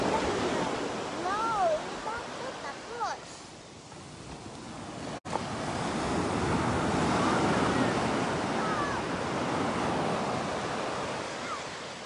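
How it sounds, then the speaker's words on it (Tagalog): Gentle sea waves wash steadily on a Bicol beach in hot weather, a continuous broad surf rush with wind, while voices and a few high shrieks of children break in near the start. "Maganda kasi hindi naman masyado malakas yung alon."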